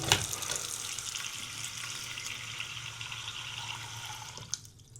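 Water runs into an old bathroom sink while it is tested for leaks after a faucet replacement, a steady close splashing stream that tapers off near the end.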